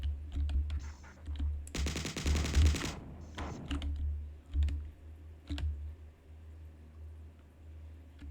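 Rapid pistol fire in the classic video game Marathon, a dense burst of sharp shots lasting about a second amid scattered single clicks and low ambient rumble.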